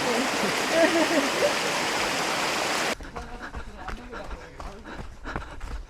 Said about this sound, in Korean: 이미 신발이 다 젖었기 때문에 그냥 발을 담그고 시원하게 가봅니다